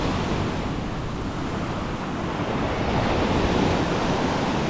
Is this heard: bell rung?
no